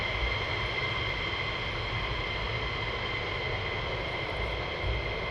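A military jet takes off at RAF Lakenheath, its engines sustaining a loud, continuous, broad roar with steady tones, heard from a distance without a break.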